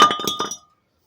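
An old brake rotor pulled off a Nissan Frontier truck is tossed aside, giving a quick burst of bright metallic clinks and clanks that ring for about half a second before cutting to silence.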